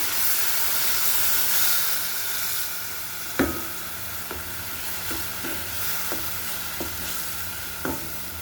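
Water is poured into a hot pan of fried shing fish curry, setting off a loud, steady hissing sizzle punctuated by several sharp clicks and knocks of a utensil stirring.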